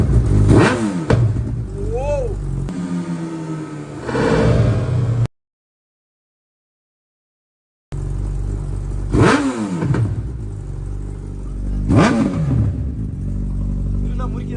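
A modified Suzuki Hayabusa motorcycle revs loudly indoors, its engine rising and falling in sharp repeated bursts, with someone talking over it and a short gap of silence midway.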